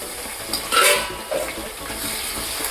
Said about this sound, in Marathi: कांदे आपले तेलामध्ये आलेले आहेत, तर मी आता हे बारीक चिरलेले टोमॅटो आता हे घालणार आहे